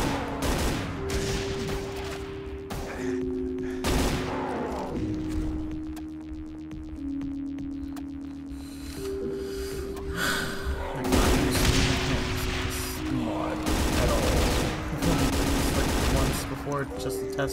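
Rapid enemy gunfire from the shooter game Brutal Doom, bursts and single shots cracking repeatedly through a loud, dense mix of game music and explosions across the whole stretch.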